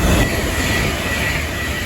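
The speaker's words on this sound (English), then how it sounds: "watch the Pendolino go by" A Pendolino train passing through South Kenton station, a steady loud rumble of wheels and rail noise with a broad hiss running through the whole moment, close by and without voices.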